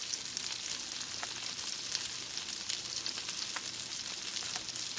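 Salsa of cilantro, tomato, green onion, jalapeno pepper and white onion is scraped into a hot pan, giving a steady, close, loud sizzle that holds without a break for the whole stretch.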